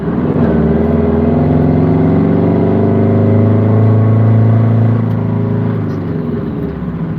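Car driving through Seattle city traffic, its engine droning loud and close in a steady, humming note that rises slightly, then eases near the end.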